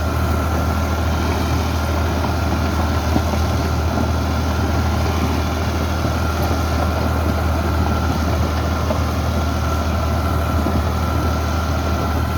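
A 2012 New Holland Al-Ghazi diesel tractor with power steering runs steadily, its loud, low, continuous engine drone filling the whole stretch without any voices.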